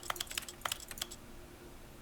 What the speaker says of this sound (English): Little keyboard, clicky keyboard noises.